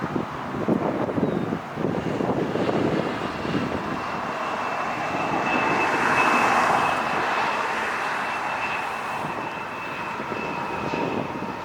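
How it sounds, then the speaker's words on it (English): Korean Air Boeing 747 landing at LAX, a loud, close jet roar that swells to a peak midway and then slowly eases off, with wind buffeting the microphone. "That was such a treat for him to land in front of us here. Korean Air 747."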